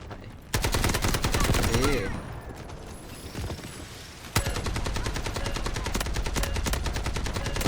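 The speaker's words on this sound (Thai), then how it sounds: "โอ้ยยิงไม่ตาย เริ่มคุมปืนไม่ได้อยู่" AKM rifle fire in the Delta Force shooter game, long rapid automatic bursts of sharp loud gunshots in two extended volleys separated by a brief lull, with a player's voice speaking over the shooting.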